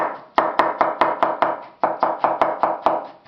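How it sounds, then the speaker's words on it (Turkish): A knife chops peeled eggplant on a board in a steady run of about a dozen crisp, evenly spaced strikes, close and alone. "gelişi güzel şekilde doğruyoruz"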